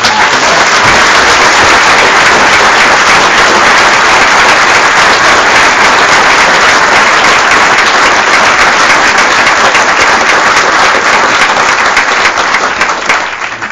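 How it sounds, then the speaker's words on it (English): Sustained, loud applause from a conference audience, dense steady clapping filling the room for over ten seconds with no talk, tapering slightly at the end. "let's have a wee round of applause for Rona"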